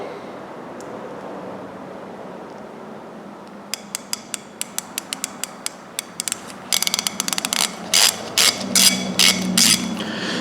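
A new Tekton ratchet with a finer gear set clicks in rapid, closely spaced metallic ticks, starting sparse and growing into faster, louder bursts toward the end, heard up close.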